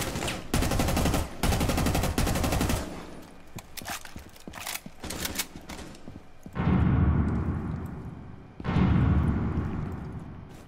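Gunfire from the Rainbow Six Siege video game: rapid bursts of automatic shots in the opening seconds, a scattering of single shots, then two heavier, booming bursts that fade out. No one speaks.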